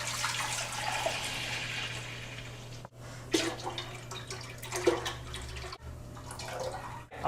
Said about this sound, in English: just dumping it into a big stainless steel pot.